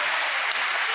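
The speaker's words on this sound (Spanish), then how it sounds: "denle un aplauso al que vive para siempre" Church congregation applauding during a Spanish-language sermon, a dense, steady burst of clapping filling the short moment without pause.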